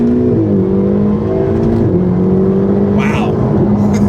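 A Ferrari 458 or 488 GTB rear-mounted V8 engine growls and revs steadily, deep and loud, with talk underneath.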